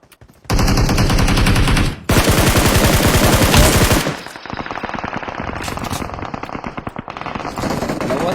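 A new assault rifle in a mobile shooter game fires long, loud automatic bursts up close, with a brief gap near the start, then continues as rapid, slightly lighter repeated shots.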